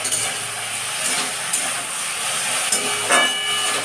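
Green chillies frying in hot oil with turmeric give a steady close hiss and sizzle, broken by a few brief louder crackles and spits, with no talking.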